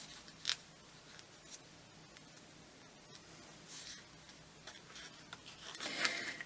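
Scissors snipping through a paper tag for a junk journal, soft close cuts with brief rustling between strokes, fairly faint and without talk.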